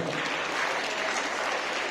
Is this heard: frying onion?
no